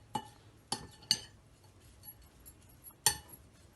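A spoon clinking against a bowl or pan while chicken filling is mixed with onion, green chilli and coriander: several sharp, separate metallic taps with soft stirring between them, close and fairly quiet.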